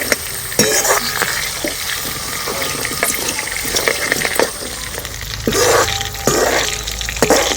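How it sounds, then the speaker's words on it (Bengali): Homemade herbal hair oil simmers and sizzles over a low flame while the back of a spoon crushes and stirs the herbs in the pan. A continuous loud, close bubbling hiss runs throughout, broken by repeated scrapes and clinks from the spoon. "চামচের পেছনটা দিয়ে সমস্ত কিছু এইভাবে কিন্তু ভেঙে ভেঙে নেব খুব ভালোভাবে যাতে নির্যাসটা এই তেলের মধ্যে যায়"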